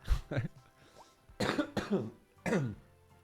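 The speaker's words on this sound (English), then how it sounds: "Oh, that COVID cough. Can't shake it." Coughing from a lingering COVID illness, a few harsh bursts close to the mic, mixed in with a voice talking.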